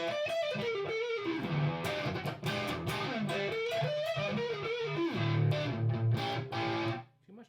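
An electric guitar played through heavy distortion rings out in sustained, bending lead notes and chords for several seconds before cutting off abruptly near the end.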